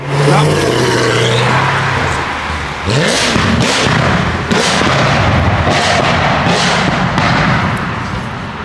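A car engine revs hard and loud nearby, surging in repeated bursts with sharp cracks and pops over a constant roar that fills the whole stretch.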